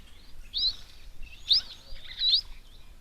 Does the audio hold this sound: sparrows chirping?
yes